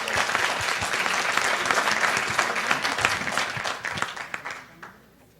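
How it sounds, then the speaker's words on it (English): Conference audience applauding a panel, with distinct individual claps within the steady clapping, which thins out and dies away over the last second. "Round of applause for our panelists."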